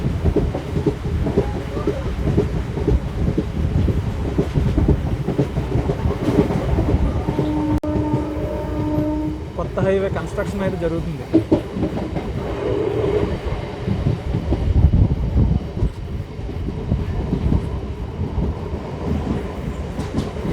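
A MEMU express train runs after leaving Chilakalapudi station, with steady rumbling and clattering from the carriages and a short horn-like tonal passage midway, heard from on board while a person talks over it.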